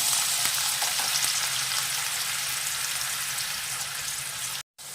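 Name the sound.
onion frying in hot oil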